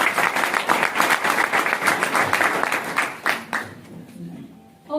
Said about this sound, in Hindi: एक बार सभी साथियों के लिए जोरदार तालियां हो जाए